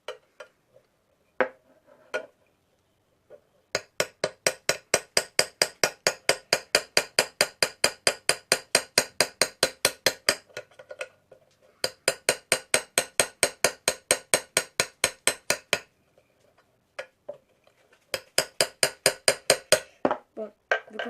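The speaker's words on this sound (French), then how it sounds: "vous prenez une vis, un marteau, une vis un peu plus grosse de préférence, moi j'avais pas plus. Et vous allez taper" Rapid runs of sharp metallic taps as a hammer drives a screw through a tin can to punch holes, coming in several long even bursts separated by short pauses, close and fairly loud with no talking.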